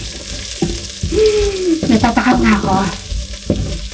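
Onions sauté in a hot pan with a steady close sizzle and occasional stirring scrapes, while a voice speaks briefly over the cooking.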